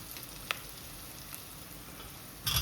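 Quartered tomatoes go into a pan of well-cooked frying onions, giving a steady low sizzle with a sharp tick early on and a louder burst of frying at the end.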